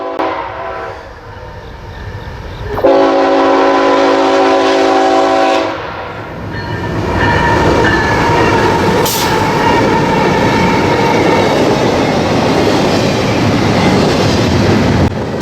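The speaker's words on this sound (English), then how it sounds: "Train I166, aka CPKC train number 132, passes through Attica Junction with 4 brand new CPKC painted engines up front" A loud freight train horn blasts twice, then heavy rumbling and steady clatter of rail cars rolling past nearby as a CPKC train led by four new CPKC locomotives passes through Attica Junction.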